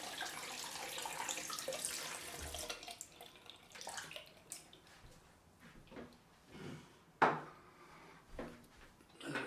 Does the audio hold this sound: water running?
yes